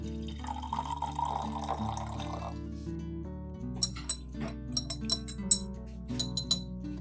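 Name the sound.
pouring water into glass jar and stirring with sugar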